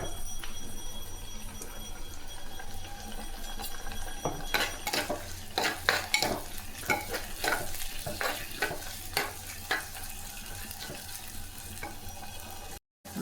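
Onions and chopped tomato with curry leaves sizzle steadily in a pan, with a run of close, scraping stirring strokes in the middle section and no talk.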